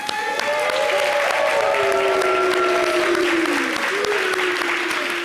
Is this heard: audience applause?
yes